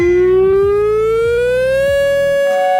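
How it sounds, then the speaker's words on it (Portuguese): A loud civil-defense-style siren sounds as a fuel-exhausted warning, one sustained wailing tone slowly rising in pitch over about three seconds, steady and close with nothing else around it. "toca uma sirene de que acabou o combustível"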